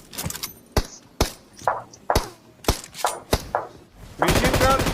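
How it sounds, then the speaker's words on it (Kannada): An M249 machine gun fires in a video game: sharp, loud shots ring out one by one at an uneven pace, then end in a dense, continuous roar of noise. "machine gun start"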